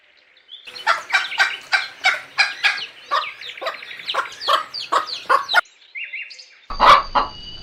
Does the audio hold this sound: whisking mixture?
no